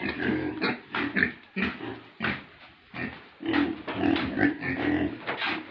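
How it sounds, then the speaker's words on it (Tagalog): Pigs on a farm grunt and snort repeatedly in close, loud bursts, a steady run of overlapping oinks and grunts with short pauses, with no voices heard. "May ano dito ng mga baboy ko."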